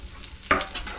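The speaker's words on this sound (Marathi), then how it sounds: "आता एक फ्राय करून घेते भाज्या सगळं." Vegetables with bell pepper stir-frying in a pan for veg manchurian: a quiet hiss, then a sudden scrape and louder sizzle as the pan is stirred, brief and close.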